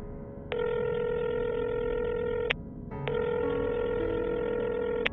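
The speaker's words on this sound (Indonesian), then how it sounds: "Coba aku telepon aja deh, barangkali orangnya lupa apa gimana ini." A phone call rings out through the handset as two long, steady ringback tones with a short pause between, clear and moderately loud over faint background hiss.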